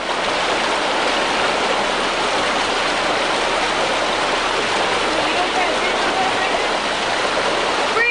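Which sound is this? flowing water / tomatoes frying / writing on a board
flowing water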